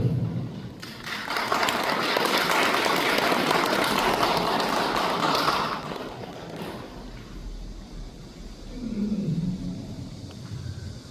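Audience applause at a Korean National Liberation Day 80th anniversary ceremony, a broad sustained clapping wash that swells loudly for several seconds, then tapers off into quieter room noise with a faint voice near the end.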